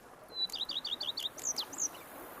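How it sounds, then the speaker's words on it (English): Birds chirp in The Witcher 3: Wild Hunt, a quick run of bright, evenly spaced tweets followed by a couple of separate calls, fairly close and clear over a soft background hush. "Bees buzzing, birds chirping."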